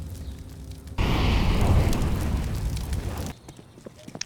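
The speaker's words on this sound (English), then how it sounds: "Throwing fire." A thrown fire grenade in a tactical shooter game ignites with a loud burst and then roars as a burning fire for about two seconds before cutting off abruptly, leaving faint game sounds.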